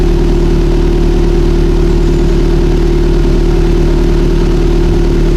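A 2008–2014 Subaru WRX/STi with an HKS equal-length manifold and Milltek exhaust idles: a loud, steady, deep engine burble, continuous and even throughout.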